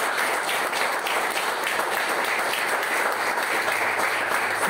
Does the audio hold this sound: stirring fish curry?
no